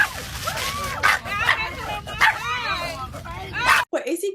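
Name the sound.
excited dog barking over McDonald's fries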